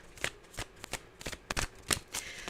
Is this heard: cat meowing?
no